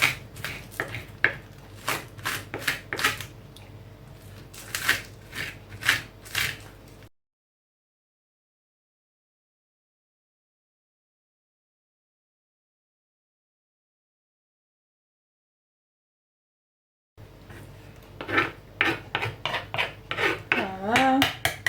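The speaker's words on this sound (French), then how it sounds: "je découpe d'abord mon poireau. Découpe petit." A knife chops a leek into small pieces on a board, with quick, close, rhythmic strokes in two bursts separated by a long stretch of silence.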